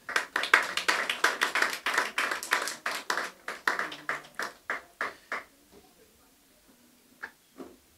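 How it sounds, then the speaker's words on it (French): A church congregation applauds the choir during a service. Brisk, dense clapping thins into a few scattered, slowing claps that fade to near silence. "Et vous aussi, donc vous pouvez vous acclamer également."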